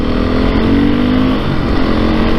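A 2022 Beta 430 RR-S dirt bike engine pulling loud and steady through the mid-range, a close, continuous droning roar with a rough buzzing edge and no voices.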